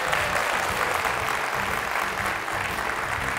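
A studio audience applauding on the Greek game show Wheel of Fortune, a steady, dense wash of clapping from a large crowd throughout, with no speech audible.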